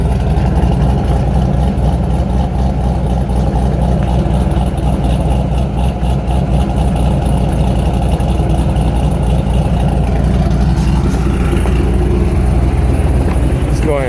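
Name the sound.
2001 Chevrolet Corvette Z06 with big cam idling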